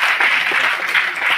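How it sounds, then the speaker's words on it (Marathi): Audience at a Diwali welcome ceremony honouring sanitation workers applauding, a steady dense close patter of many hands throughout. "टाळ्यांचा आवाज फार कमी येतोय"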